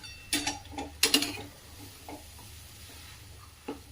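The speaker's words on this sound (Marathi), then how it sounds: "आता व्यवस्थित हे बटाटे छान असे परतून घ्यायचे" Boiled potato filling for vada pav sautéed in a pan with little oil, spatula scraping and stirring in short clattering strokes, close and moderately loud, with faint sizzling between.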